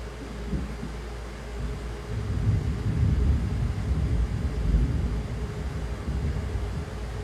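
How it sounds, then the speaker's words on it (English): Deep thunder rumbles low and steady through the whole stretch, swelling louder in the middle and then slowly easing off, a distant roll with no voices over it. "And that sound, Cat, was thunder."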